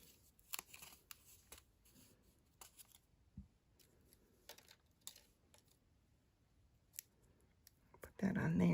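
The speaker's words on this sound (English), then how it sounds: "I'm going to take my child safety scissors because they're great for ribbon." Child safety scissors trimming ribbon in a quiet craft room, a handful of soft, close snips and clicks spread out over several seconds, followed by a sudden loud burst of noise at the end.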